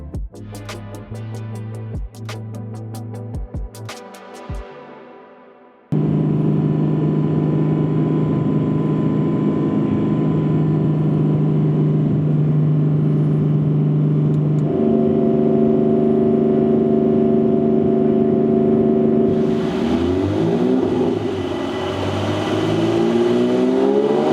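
Porsche 718 with a 4.0L engine and Fabspeed valved exhaust running on a dyno, a few sharp revs followed by a long steady loud drone that climbs in pitch near the end.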